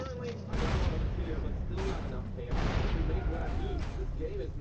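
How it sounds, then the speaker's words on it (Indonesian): Explosions and heavy blasts from the video game GTA San Andreas boom in a few loud bursts over rumbling game noise, with a person talking over the action. "Malah meledak."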